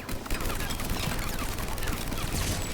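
Dense, rapid gunfire with incendiary ammunition in Mass Effect 3, sustained bursts of shots layered with crackling impacts, loud and continuous throughout.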